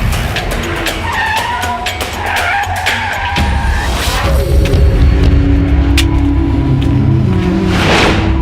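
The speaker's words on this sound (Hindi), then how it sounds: "गाड़ी निकालो।" A car pulls away hard with tires skidding and squealing, the engine revving loud and close over a gritty rumble, in a Hindi-dubbed action film scene. No speech is heard.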